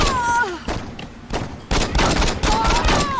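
Rapid gunfire from the Saints Row video game comes in loud, close bursts of repeated shots, with someone talking over the shooting.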